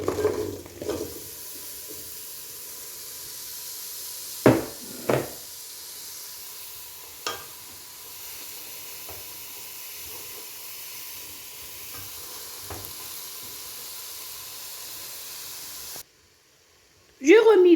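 Sugar and apples are stirred in a pan for apple confit: a steady soft hiss with a few sharp utensil clinks and scrapes against the pan, close and fairly quiet, ending in a brief pause.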